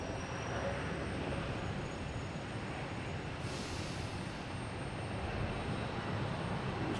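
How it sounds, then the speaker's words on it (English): A Delta Airbus A321neo airliner at Boston Logan Airport gives a steady, broad engine roar at a moderate distance that holds evenly throughout. "That's Delta from Las Vegas, an A321neo."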